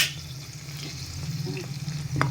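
Onions fry in oil in a pressure cooker for biryani, nearly browned to red, giving a steady close sizzle over a low hum, brief and without speech.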